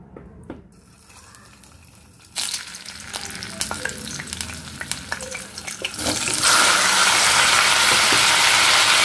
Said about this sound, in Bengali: এবার এর মধ্যে আমি কপিগুলো ছেড়ে দেবো।